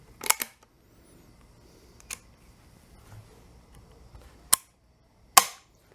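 Dry firing a hunting rifle during a preseason check: a few sharp, isolated mechanical clicks and snaps, close and crisp, spaced apart with quiet handling between them and no talk.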